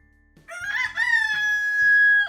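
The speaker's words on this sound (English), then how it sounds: "Cock-a-doodle-doo. It's a rooster." A rooster crows once, a loud, long cock-a-doodle-doo rising then holding a bright sustained note, close and alone.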